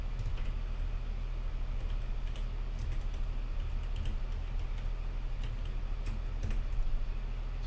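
Typing on a computer keyboard while configuring Voron V0 3D printer firmware, with soft, steady key clicks beneath a constant loud low hum, continuing throughout without speech.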